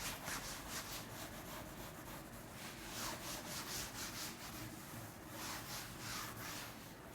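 Steady rhythmic scrubbing of an eraser or duster wiping writing off a classroom board, a series of soft, broadband swipes repeating for several seconds, close and alone without talking.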